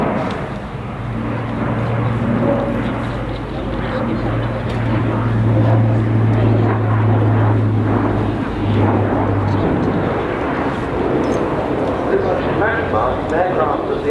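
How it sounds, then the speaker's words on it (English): An Airbus A400M military transport aircraft at an airshow makes a steep descent, its deep, steady engine drone loud and continuous throughout, with commentary voices talking over it. "And a very steep descent there by the A400M."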